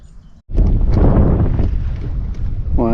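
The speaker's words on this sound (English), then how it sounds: "hopefully you can hear me in the wind" Strong wind roars across the mic at a windswept public lake in France, a dense steady rush after a brief quiet gap, with a short voiced sound near the end.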